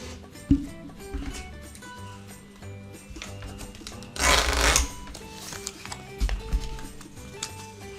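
A receipt printer at a boutique checkout prints a cash sale receipt: scattered small clicks and taps, then one short, loud, rasping burst of printing, followed by further light clicks.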